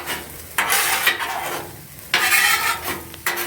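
Cooked rice being scraped over and stirred into tender vegetables on a Blackstone flat-top griddle for jambalaya, with rough spatula scrapes in bursts over a soft sizzle, close and fairly loud, no talking.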